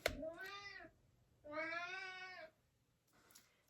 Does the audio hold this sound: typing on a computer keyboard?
no